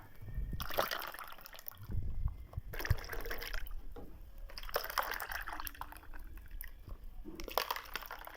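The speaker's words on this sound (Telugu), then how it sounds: "దీన్ని ఒక్కసారి కలుపుతున్నాను" Masala buttermilk with ice pieces is stirred in a vessel, giving repeated bursts of close sloshing and swirling liquid with faint clinks, in uneven waves.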